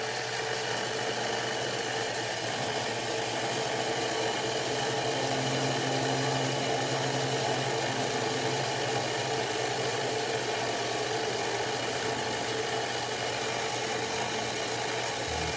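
A lathe parts off a metal hinge rod for a saxophone, a steady, loud machine whir and hum running continuously for the whole stretch with no talking.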